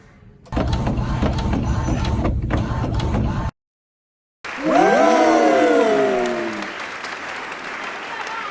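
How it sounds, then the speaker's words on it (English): A sticker printer running as it prints a design, giving a steady mechanical whir for about three seconds, then a brief pause before a second burst of sliding, rising motor tones from the print head that gradually fade. "it should start printing your design now. So yeah, we can see it print."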